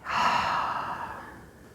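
One long, forceful exhale during a yoga breathing exercise, close and clearly heard, starting strongly and then gradually fading away.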